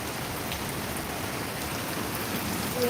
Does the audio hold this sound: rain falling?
yes